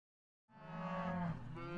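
Dairy cows moo on a farm, one long, loud, close low call that begins after a short silence and holds steady to the end.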